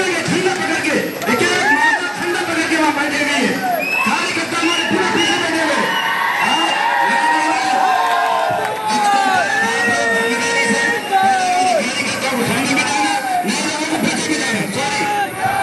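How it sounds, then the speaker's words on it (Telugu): A crowd of party cadres cheers, whoops and shouts in a sustained loud roar, with voices chattering and calling over one another throughout. "దీంతో ఒక్కసారిగా క్యాడర్ చప్పట్లు,"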